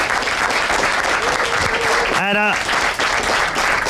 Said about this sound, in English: Big round of applause, please, for our commentary team this evening